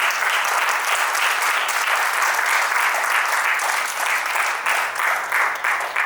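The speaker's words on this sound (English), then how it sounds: "Please give a big round of applause." Loud, dense applause from an audience at a farewell ceremony, continuous and close for about six seconds with no voices rising above the clapping.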